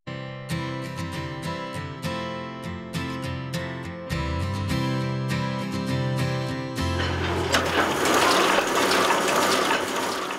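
A printing press runs in a small print shop in Bedford, Virginia, with rapid, regular mechanical clacking and ratcheting that becomes a denser, louder whir of gears partway through.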